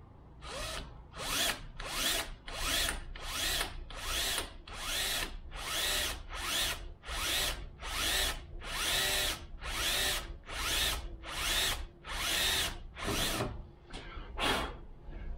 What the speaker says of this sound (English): Drill that hole.